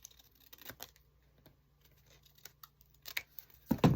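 Scissors snipping through paper during a craft project, a few quiet irregular cuts with soft rustling, close and faint, ending in a louder crinkle.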